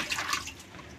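Water dabbed and smeared onto a cut gelatin roll while making a liquid polymer rubber stamp, a brief close wet splashing and rubbing sound that fades after a moment.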